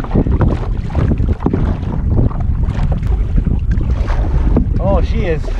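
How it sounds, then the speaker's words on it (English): Steady crosswind buffets the microphone on Waldo Lake in Oregon from an Old Town Discover canoe, a loud continuous rush with gusty wind noise and faint water sounds throughout. "And there is a crosswind. Pretty decent crosswind."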